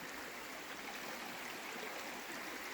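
Steady, faint rushing of the waterfall and stream at St Nectan's Glen, an even broadband wash of water with no voices.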